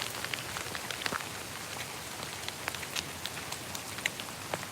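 Rain falling outdoors at a big cat rescue sanctuary: a steady hiss of rain with scattered sharper drips and splats on nearby surfaces, moderately quiet and alone.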